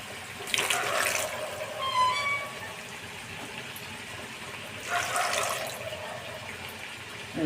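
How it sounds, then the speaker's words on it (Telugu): A little water poured into a pan of fish gravy, two short splashing gushes a few seconds apart over a quiet bubbling background. "దీంట్లో కొద్దిగా వాటర్ వేస్తాను"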